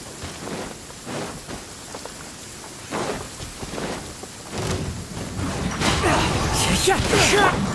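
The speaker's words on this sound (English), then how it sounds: "Taking a stroll in the middle of a downpour certainly rouses the spirit." A steady downpour in Genshin Impact hisses and patters across the scene, growing louder and denser toward the end, with a character speaking over the rain.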